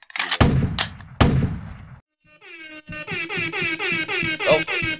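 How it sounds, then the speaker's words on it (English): Two loud blasts open, followed by a long pulsing run of rapid repeated air horn honks on a podcast, loud and close. "Air horns when I'm in the building."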